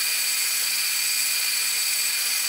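A power drill bores into a guitar neck fretboard during a Strat neck build, a steady high-pitched whine holding constant and loud throughout with no talk.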